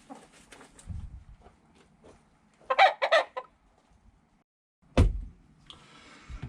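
Chickens in a crowded backyard coop cluck and squawk in short bursts, with a loud flurry in the middle and a sharp thump near the end, close by with no talk.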